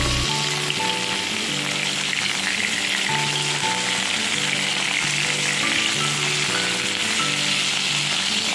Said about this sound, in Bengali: আর এখন ফুলকপিগুলো দিয়ে দিলাম, ফুলকপিগুলো একটু ভালো করে ভেজে নেবে